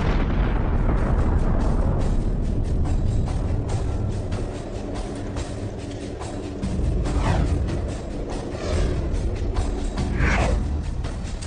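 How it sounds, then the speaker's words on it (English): Colossal explosion sound effect for an evaporating black hole, a loud, sustained rumbling roar that fills the whole stretch with deep booming texture and a few sweeping surges. "it will have evaporated so much that the remaining stuff will evaporate in a colossal explosion"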